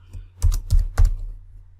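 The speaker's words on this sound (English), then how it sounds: "I can either hit enter on the keyboard or the tab key to jump to the next field." A few quick keystrokes on a computer keyboard while entering data into a Microsoft Access table, three or four close clicks over a low electrical hum.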